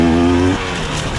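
A 2024 KTM 300 XC-W two-stroke dirt bike engine revs loud and close on a ride, its buzzing pitch holding high and then dropping off as the throttle eases.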